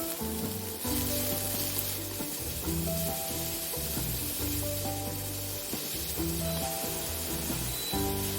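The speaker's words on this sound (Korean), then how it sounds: "애호박과 당근을 투하하고 여기에 소금 3 꼬집 넣어 함께 볶는다" Zucchini and carrot sizzle and crackle steadily in a hot pan while being stir-fried, with music playing underneath.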